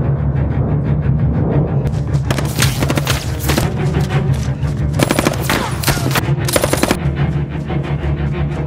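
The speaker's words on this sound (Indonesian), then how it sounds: "Mereka menembak." Bursts of rapid automatic gunfire ring out in several volleys over a steady low rumble, loud and close, with brief pauses between strings of shots.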